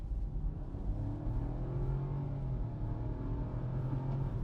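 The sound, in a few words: 2024 Chevy Trailblazer accelerating at full throttle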